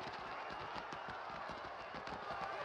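Hooves clip-clop at a run on an anime soundtrack, a dense rapid patter of horse footfalls that goes on steadily under a busy, loud mix.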